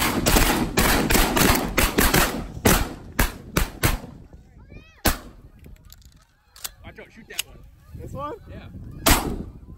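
Loud shotgun blasts ring out repeatedly during a Wisconsin opening-weekend duck hunt, several sharp reports in quick bursts, with goose and duck honks and calls between shots and hunters talking outdoors.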